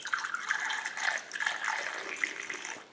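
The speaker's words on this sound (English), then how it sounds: "we're going to keep on filling it up with coolant" Coolant mixed with distilled water being poured into the radiator of a Jeep Cherokee during a water pump replacement, a gentle trickling, gurgling flow heard close by, soft and steady, with no speech.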